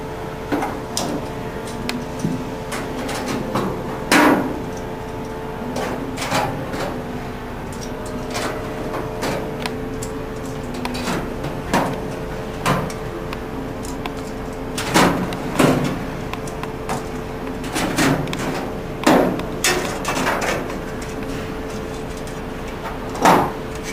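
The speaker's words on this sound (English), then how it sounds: "Take all the clecos out." Repeated sharp metallic clicks and snaps, spaced irregularly, as clecos are pulled from a sheet-metal aircraft boot cowl over a steady background hum.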